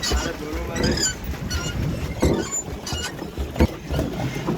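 Small boat rowed by four people on Boga Lake, a hill lake in Bandarban, with soft water splashes and paddling knocks under steady wind noise and voices nearby.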